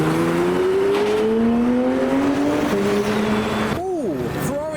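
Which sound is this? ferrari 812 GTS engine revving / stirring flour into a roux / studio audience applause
ferrari 812 GTS engine revving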